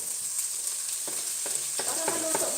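Onions and tomatoes fry and sizzle in a pan while being stirred, a steady hiss with scraping spoon strokes growing busier toward the end, close and fairly loud with no talking.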